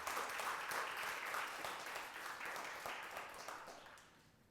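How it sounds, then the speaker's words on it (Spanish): A church congregation gives a round of applause at a Sunday service, a dense roomful of clapping that holds steady and then tapers off toward the end, heard without any talking. "denle un aplauso al Señor"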